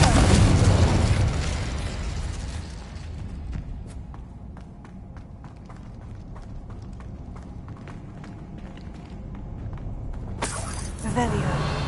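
Incendio fire spells cast in Hogwarts Legacy: a loud, roaring burst at the start fades into a crackling, clicking rumble, and a second sharp flare erupts near the end.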